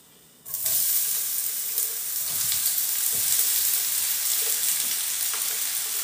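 Onions drop into hot vegetable oil in a pan with a sudden onset, then a loud, steady frying sizzle carries on alone with faint crackles for several seconds.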